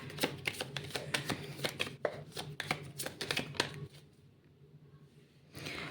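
Tarot cards being shuffled by hand, a rapid run of crisp riffling snaps and flutters for about four seconds, then a short pause before another burst of card noise, close and alone without talk.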